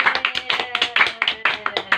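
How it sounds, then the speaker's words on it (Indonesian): A small classroom group claps for the first pair in a micro-teaching lesson, a few close hands striking in quick, fairly regular beats, loud and uneven, with no talk over it. "Tepuk tangan untuk pasangan pertama."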